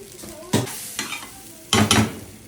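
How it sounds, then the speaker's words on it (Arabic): Rice is stirred and sautéed in butter in a pan for a Egyptian trotters casserole, with soft steady sizzling broken by three louder scraping stirs of the spoon, close and without talk. "شوحته شويه حلوين كده، خليه ايه يتشرب من الزبده كده"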